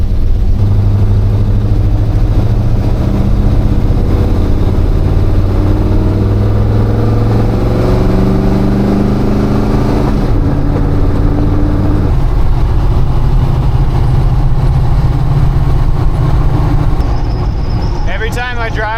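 A low-compression small-block Chevy V8 in a 1978 Chevrolet K10 square-body truck runs loud and close with a deep, steady rumble, shifting in pitch as the revs rise and fall.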